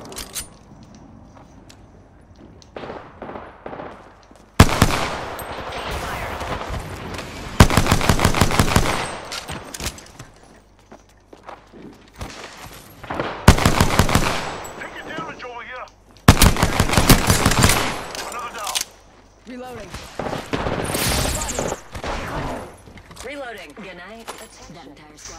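Repeated loud bursts of automatic gunfire in a video game, several seconds each, alternate with quieter gaps where softer shots and movement continue, while voices talk in between.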